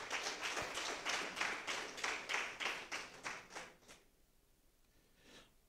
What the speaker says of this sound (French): Je voudrais qu'on vous applaudisse encore une fois.